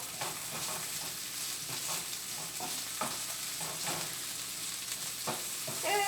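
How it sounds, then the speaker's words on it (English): Green peppers sizzle steadily in a stir fry, with repeated scraping stirs at an unhurried rhythm, close and without any talking. "put those in and stir those up for a while"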